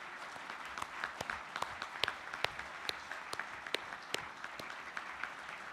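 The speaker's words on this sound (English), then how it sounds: "Let us give them a round of applause." A convention audience at the 2013 Global Peace Convention gives steady, sustained applause of many hands clapping at once, heard at moderate volume from some distance.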